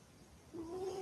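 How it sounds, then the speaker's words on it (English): A small cat gives a faint, short squeaky purring tone that rises out of quiet background and holds to the end, close by with no talking. "Can you hear her little squeaky sounds?"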